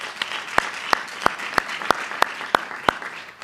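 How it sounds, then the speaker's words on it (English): Audience applause for mentors at an LED Mentor/Protege Program event: a steady bed of crowd clapping with one loud, evenly timed clapper close by, about three claps per second. "let's give them a round of applause right now"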